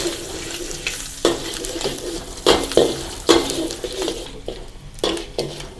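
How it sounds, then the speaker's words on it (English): Dried shrimp stir-fried in a wok with a metal spatula while making Chinese spinach soup, with sharp scraping clanks of the spatula over a steady oily sizzle, up close and with no talk. "Now add the dry shrimp. and continue stir fry until fragrant."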